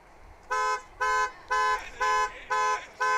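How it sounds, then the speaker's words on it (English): Car horns honk in a steady series of six long, loud blasts at DFW airport's Founders Plaza as a plane arrives, each tone held about a quarter second with short gaps between. "And as is tradition here at DFW Founders Plaza, the horns begin to honk."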